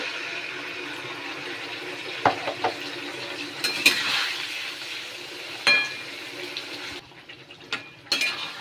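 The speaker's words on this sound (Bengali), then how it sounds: "এবার মশলাটাকে ভালো করে কষাবো" Spices with salt, turmeric and Kashmiri chilli powder frying in a pan after potatoes, a soft continuous sizzle broken by a few sharp scrapes and clinks of stirring, close by, with no talking.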